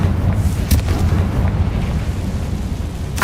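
The Confringo spell in the video game Hogwarts Legacy bursts into explosions, with sharp booms near the start and end over a dense, rumbling background.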